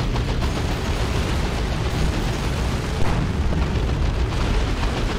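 Steady barrage of grenade launcher explosions in the Dawn of War 2 strategy game, a dense continuous rumble of booms and bursts with no clear gaps, loud throughout and one slightly sharper hit near the middle.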